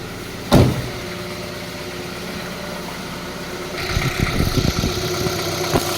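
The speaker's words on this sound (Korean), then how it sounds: "LPG는 연료 특성상 아주 정숙한 폭발음을 나타내고 있습니다" A Kia Forte LPi car engine running on LPG, from 2011 with 140,000 km, idles with a steady low rumble, a sharp knock near the start and a few brief rattles later on.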